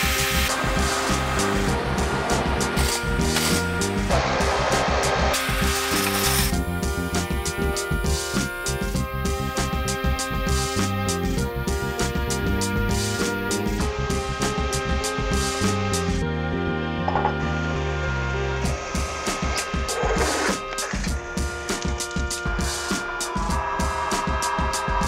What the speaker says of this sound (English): I'm going to be using the 1942 Kearney and Trucker milling machine to hog off some material.